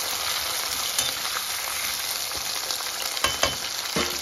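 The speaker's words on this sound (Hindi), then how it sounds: "गाइस आलू मैंने डाल दिया है, इसे अच्छी तरह से मिक्स करेंगे" Potatoes are stirred into garlic frying in a pan, giving a dense, steady sizzle close up. Scattered scrapes and taps of the spatula become more frequent toward the end. There is no talk.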